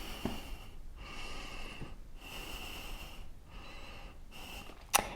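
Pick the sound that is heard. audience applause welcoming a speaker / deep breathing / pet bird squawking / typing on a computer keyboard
deep breathing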